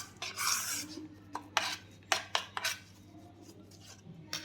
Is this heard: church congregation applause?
no